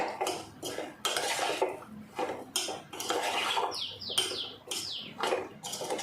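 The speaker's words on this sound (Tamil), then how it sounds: "இப்போ இதை ஃபுல்லாக நல்லா எல்லாம் கிண்டிடுங்க" Mango pickle being mixed with spice powder, heard as a series of clinking and scraping strokes of a spoon against a metal vessel, repeated in uneven bursts at moderate volume with no talking.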